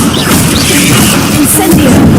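A fire spell, Incendio, is cast in Hogwarts Legacy, a loud roaring whoosh with crackling bursts that fills the whole short moment.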